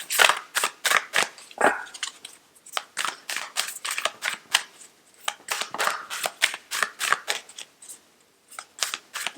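Tarot cards are shuffled and drawn, producing a rapid string of crisp, close riffling snaps in uneven bursts, with brief pauses between runs and no speech.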